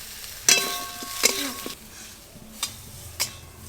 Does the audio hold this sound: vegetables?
yes